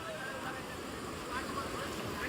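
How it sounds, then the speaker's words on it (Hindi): Steady rushing roar of a waterfall fills the background, a broad continuous wash with no break, while someone speaks over it. "मेरे पीछे जो झरने की आवाज आ रही है"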